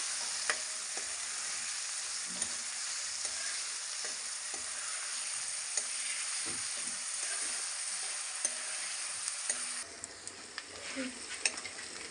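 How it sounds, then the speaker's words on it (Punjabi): Onions fry with cumin until brown, making a soft, steady sizzle broken by light stirring clicks and taps. The sound stays close and unaccompanied by talk. "ਪਿਆਜ਼ਾਂ ਨੂੰ ਆਪਾਂ ਚੰਗੀ ਤਰ੍ਹਾਂ ਭੁੰਨ ਲੈਣੇ ਬ੍ਰਾਊਨ ਹੁੰਦੇ ਤੱਕ"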